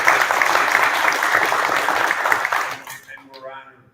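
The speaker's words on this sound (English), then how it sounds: "So give them a round of applause" A room full of people claps for committee members at a community center event, dense sustained applause for about three seconds that fades out abruptly, with a voice starting to talk as it dies away.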